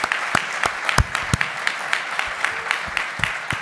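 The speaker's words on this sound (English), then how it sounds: "a big applause for our wonderful panel" Applause from a conference audience thanking a philosophy panel, a moderate crowd whose individual sharp claps stand out clearly above a softer background of clapping.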